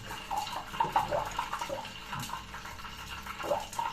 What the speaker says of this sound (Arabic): والله جا وقت سكب الفول